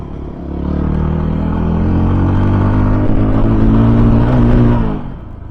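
A Voge 300 Rally single-cylinder motorcycle pulls uphill in third gear, its engine note climbing steadily and loudly for several seconds before easing off, close and with no talk.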